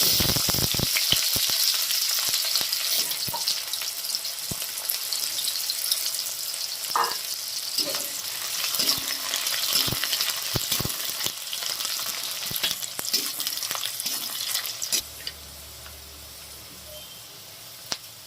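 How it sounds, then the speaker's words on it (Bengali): A medium-sized onion fries in hot oil in a pan with whole spices such as cinnamon, giving a loud, steady sizzle with occasional stirring scrapes and no talking. "পেঁয়াজটা ভাজা হয়ে গেছে"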